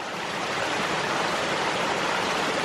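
Water gushes steadily from the outlet pipe of a ram pump at an abandoned greenhouse, a loud, continuous broadband rush with no break.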